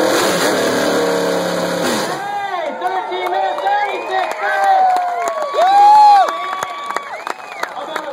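A small-block Chevy engine on a stand in a school shop fires up and revs over and over, harmonic sweeps rising and falling, with students cheering and chatter around it; a steady broadband noise fills the first two seconds before it catches.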